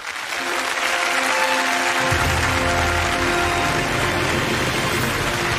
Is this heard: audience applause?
yes